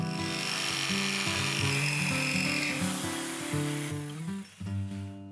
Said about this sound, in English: cuts out the curve with a jigsaw